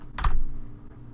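Short burst of typing on a computer keyboard, a brief cluster of close clicks entering letters into a student-name field, alone with no talk.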